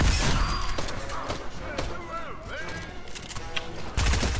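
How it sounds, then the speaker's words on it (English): Tommy gun fire in Fortnite Chapter 2 rattles in rapid bursts amid a busy game mix with chirps, clanks and a final loud burst, with voices talking over it. "That's Tommy gun."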